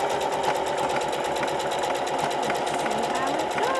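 A sewing machine stitches through a rag quilt sandwich in a rapid, steady mechanical chatter that runs close and continuous, with a person talking over it.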